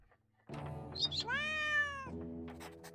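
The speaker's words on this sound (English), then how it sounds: "Ooh, there's a cat." A cat in the video game Drova: Forsaken Kin gives a single drawn-out meow after a soft short chirp, close and clear against quiet game ambience.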